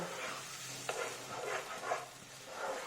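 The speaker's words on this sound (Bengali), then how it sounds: "এবার কাজ হচ্ছে শুধু নাড়ানো" Jackfruit-seed sweet is stirred in hot ghee in a pan, with a continuous soft scraping and gentle sizzle and a few sharper clicks of the spoon, close and quiet with no talking.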